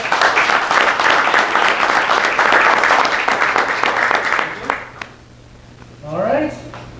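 A startup demo day audience applauds its three teams, loud sustained clapping for about five seconds that then fades, followed by a short spoken phrase at the end.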